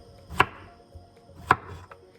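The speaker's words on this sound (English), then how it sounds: "The easiest way to cut them up, and the way I usually do it, is in half. And then I just cut some slices" A kitchen knife slicing through food on a cutting board for homemade spaghetti, two sharp distinct chops about a second apart with soft handling sounds between, close and clear.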